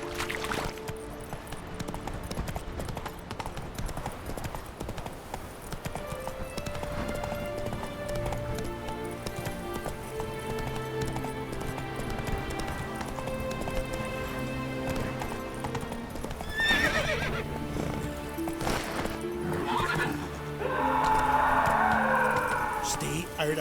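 Hooves clip-clop beneath game music and voices in The Witcher 3 as a horse canters along, with a brief neigh possible near the end; steady, mid-distance footfalls run throughout.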